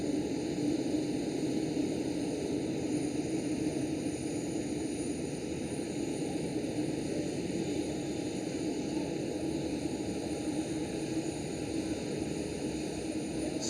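A Boeing 787-10 airliner begins to taxi at Amsterdam Schiphol, giving a steady, distant engine roar and whine that holds level and unbroken throughout.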